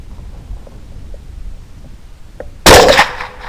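One loud, sharp rifle shot from a 6.5 Grendel with Hornady V-Max ammunition, fired at a skunk outdoors, comes after a quiet stretch with faint ambient noise and leaves a short rolling echo.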